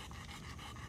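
A small dog pants rapidly and steadily after a workout in warm weather, quick rhythmic breaths close to the microphone over a faint background.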